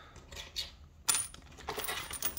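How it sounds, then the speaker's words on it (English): Coins clink and drop into a Burg Wächter Boccia puzzle lock container, landing in several close metallic hits with a sharp strike near the middle and a rattling run at the end. "All the coins go in,"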